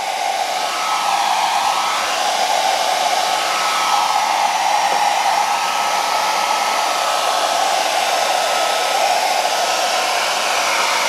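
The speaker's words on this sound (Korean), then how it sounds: "드라이기로 뜨거운 바람을" A hair dryer on a low hot setting blows steadily over wet gesso, a continuous close whirring rush of air with a faint motor whine and no talking.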